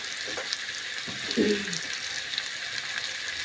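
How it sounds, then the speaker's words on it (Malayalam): Chicken parts frying in a pan, a steady broadband sizzle hissing throughout with a brief louder crackle midway, close and even. "ഫ്രൈ ചെയ്ത് വെക്കാം."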